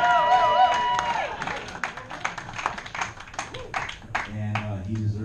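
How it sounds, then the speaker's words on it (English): Crowd at a jazz club clapping and cheering over the tail of an organ quartet's music, with a voice talking over it near the end. "he deserves a special round of applause"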